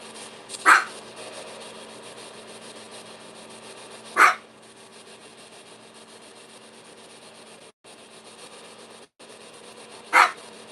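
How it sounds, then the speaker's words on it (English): A dog barks three times, each a short, sharp single bark separated by several seconds. The barks stand out against a quiet, faintly humming indoor background. "I bet you're going to start barking at me"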